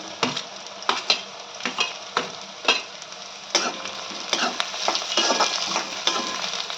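Chopped onion frying in a pan for vegetable pulao as capsicum goes in, with a constant sizzle broken by repeated sharp scrapes and clinks of a spoon stirring, close up and fairly loud.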